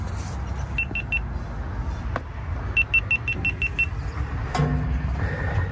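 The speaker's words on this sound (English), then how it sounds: "That beeping was my GoPro saying battery just ran out." A GoPro camera beeps its low-battery warning in two bursts of short, evenly spaced high tones, three quick beeps and then a longer run of six, over a low outdoor background rumble with no speech.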